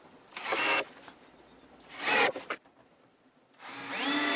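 A power driver whirs in three short bursts, driving screws to fasten a hinge onto a workbench lid, with quiet pauses between the runs.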